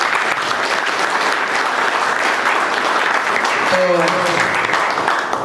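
Loud, sustained applause from an audience welcoming a speaker at a training batch event in Chhattisgarh, dense clapping throughout with a brief spoken word near the end.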